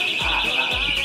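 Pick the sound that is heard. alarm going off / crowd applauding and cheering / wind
alarm going off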